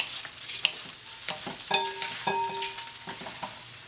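Lo mein noodles and vegetables frying in a pan, a faint sizzle punctuated by scraping, clattering stirs and tosses at an uneven pace, fairly close.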